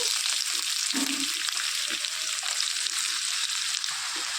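Chopped onions and a little fenugreek seed sizzle steadily in hot oil in a pan for an Andhra egg and brinjal curry, a continuous close frying hiss with occasional soft stirring knocks and no talk.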